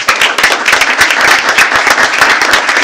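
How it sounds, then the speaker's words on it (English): Audience applause for Miss Tanya at a school board of trustees meeting, a dense, steady burst of many hands clapping close by for about three seconds. "Let's give Miss Tanya a big round of applause"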